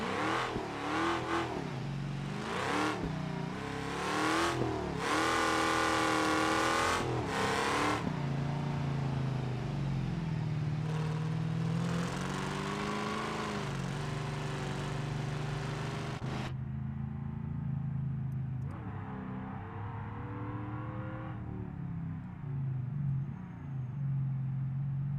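A blown BeamNG.Drive wagon engine revs hard in third gear, loud and sustained with rising and falling pitch, then drops to a lower, steadier drone.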